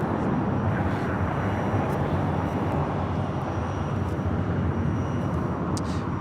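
A Boeing 747 airliner at LAX roars with a steady, broadband jet engine rumble, loud and continuous without pauses or voices.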